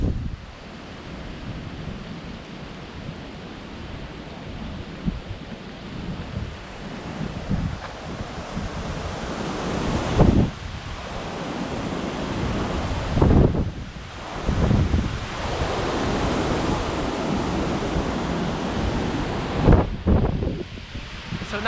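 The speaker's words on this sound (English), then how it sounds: "Very, very windy out" Strong wind roars and buffets the microphone continuously in Japan the day after a typhoon, with heavier gusts surging every few seconds; no voices.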